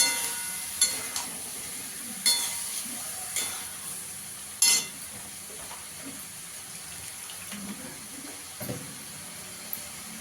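Salted cauliflower frying in a pan is stirred with a utensil, giving a soft continuous sizzle broken by several sharp scrapes and clinks at irregular intervals.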